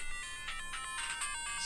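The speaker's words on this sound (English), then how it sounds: "sorry, that's my phone ringing." A phone's melodic ringtone plays softly in the background, a quiet run of electronic tones with a steady rising-and-falling pattern, heard alone without talk.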